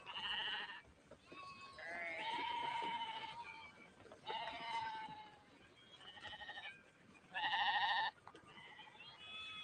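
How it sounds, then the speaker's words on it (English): A goat bleats repeatedly in loud, wavering calls, several separate bleats spread across the stretch with short gaps, standing alone without talk over a faint, steady background. "A Judas goat."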